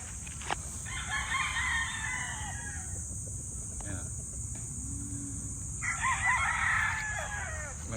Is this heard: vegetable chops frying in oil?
no